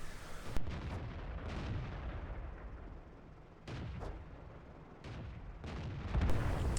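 Tank cannon fire in the World of Tanks video game on the Prokhorovka map, with several heavy booming shots at irregular intervals over a constant rumbling battle ambience, no talk.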